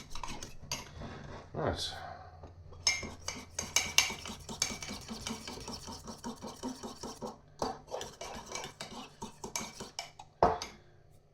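A spoon stirs a mixture in a cup for a steak pie, making steady rhythmic clinks and scrapes against the sides, close and fairly loud, with a few sharper knocks and a brief spoken word.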